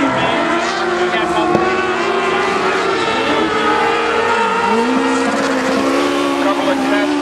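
Dwarf race car engine roars loud and continuous during practice laps at Barona Speedway, with pitch rising and falling as it works around the track, no talk over it.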